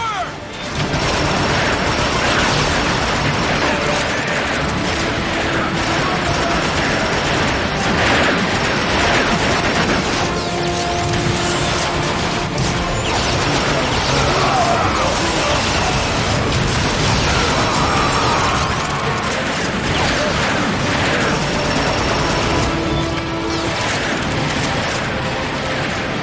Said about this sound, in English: Give him some cover fire!